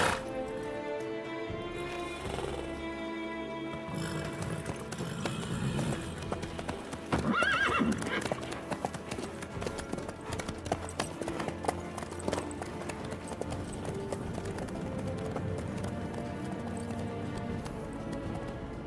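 Horse hooves clip-clop steadily through the game world of The Witcher 3, a rhythmic trot with an occasional neigh, set against background music and ambience.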